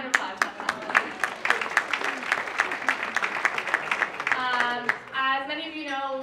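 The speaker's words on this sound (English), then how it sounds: "give yourselves a round of applause" Audience at a CAIR-Arizona community banquet breaking into brief applause, dense clapping for several seconds that thins out as voices and talk take over.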